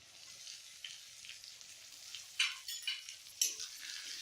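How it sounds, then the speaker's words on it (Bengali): Onion, garlic and chopped tomato sizzle in hot oil over medium-high heat for a Bengali mutton kosha curry, a quiet steady frying hiss broken by a few sharper spatula scrapes near the end. "ওটাকে একটু ভাজতে হবে, আঁচটা মিডিয়ামে একটু বেশি রাখতে হবে।"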